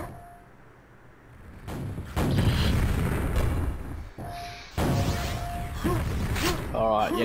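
Heat-seeking grenades burst in an arena video game duel, loud booming blasts with whooshes and mechanical clanks separated by brief quieter gaps.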